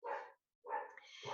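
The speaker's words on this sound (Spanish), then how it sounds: "se les ha ocurrido a una perrita del frente ladrar" A small female dog barks across the street, giving two loud, fairly close barks separated by a short pause, the second drawn out into a whining yelp.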